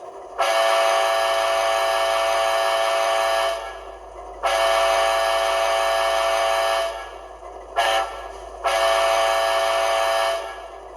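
An Athearn Genesis AC4400CW model locomotive's sound decoder plays a horn crossing sequence: three long sustained multi-tone blasts separated by pauses, with one short blip before the last, loud and clean with no talk.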